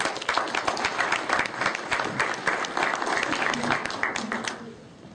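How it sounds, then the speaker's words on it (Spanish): Audience applause at a professional forum in Peru, dense and sustained clapping from a crowd that holds steady for several seconds and then begins to taper off, with faint voices underneath. "Lo recibimos con un aplauso."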